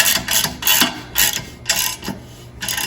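A grade 8 bolt being tightened on a bench grinder stand, heard as a close series of short ratcheting clicks and metallic scrapes coming in uneven bursts over about three seconds.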